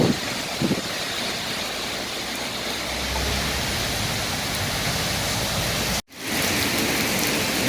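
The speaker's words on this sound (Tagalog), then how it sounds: "Talagang natuloy na po ang ulan." Heavy rain pours steadily during a storm in the UAE, a constant dense hiss of water on surfaces close by, with a momentary cut near the end before the downpour resumes.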